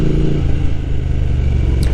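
A Triumph Street Triple motorcycle engine runs close by, a loud, steady low rumble with a slight uneven throb and no voices over it.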